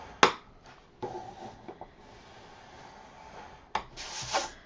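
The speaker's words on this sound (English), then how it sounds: "You're going to score it 1/2 inch." Paper being scored for a frame album, heard as a few close, sharp scraping strokes of the scoring tool, separated by quiet rubbing.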